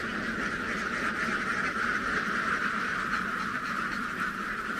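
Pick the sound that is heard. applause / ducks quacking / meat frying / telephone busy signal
ducks quacking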